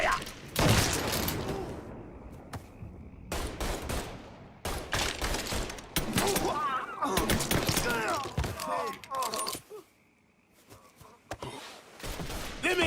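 A shootout in Mafia 3 brings dense bursts of gunfire with sharp cracks, thuds and shattering impacts, loud and close, with short pauses between volleys and shouting voices mixed in.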